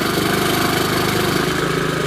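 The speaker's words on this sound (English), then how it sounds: "say I'm mowing this bit of lawn here, got the blades going" A Honda HRX 21-inch self-propelled lawn mower runs with its blades engaged, a loud, steady engine drone and hum that holds without a break.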